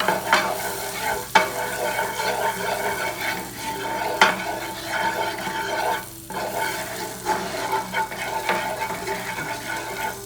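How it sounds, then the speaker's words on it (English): Kasuri methi powder roasting in a pan on the stove, stirred with a utensil that scrapes and taps the pan in a steady rhythm, with a low sizzle running beneath the close, clear strokes. "Then I will put some little bit kasturi methi powder. I have to roast it, give a nice flavor."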